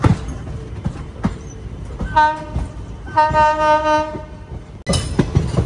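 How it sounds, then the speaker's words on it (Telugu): An electric locomotive hauling the Andaman Express sounds its horn in two sustained blasts over loud rolling train noise and rail clatter, heard from on board. "మన లోకోమోటివ్ హాంకింగ్ కొట్టేది."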